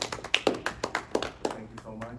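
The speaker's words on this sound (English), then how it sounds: "I'd like to conclude today's Wait to See My Degree panel at the EdFest with a good round of applause for" A small group applauds panel participants at an EdFest degree panel, sparse distinct handclaps in an uneven rhythm, fairly near and modest in volume, fading out toward the end.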